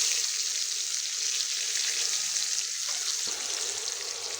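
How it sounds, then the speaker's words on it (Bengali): Chopped onion sizzling in hot oil over tempered black cumin, whole cumin and dried red chilli, a steady loud hiss with a brief stir-like dip near the end. "এবার দিয়ে দিচ্ছি পেঁয়াজ কুচি"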